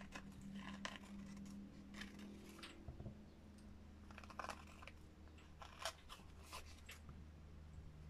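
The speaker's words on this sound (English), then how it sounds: "Let's just use scissors." Scissors snip through paper while journaling cards are made, giving a string of faint, crisp cuts and rustles at close range with no voices.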